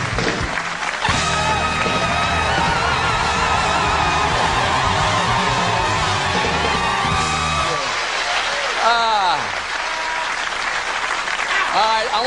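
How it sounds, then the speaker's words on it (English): A late-night TV show studio audience claps steadily and loudly over band music, with whoops and cheers rising through the clamor, and then a voice speaks over the fading applause near the end. "I want you to applaud now"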